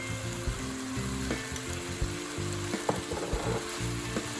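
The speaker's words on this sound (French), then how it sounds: "Mélangez un peu la sauce d'huître, et les pommes de terre." Potatoes stirred with oyster sauce in a hot frying pan, a continuous close sizzle with scraping and clattering utensil knocks throughout.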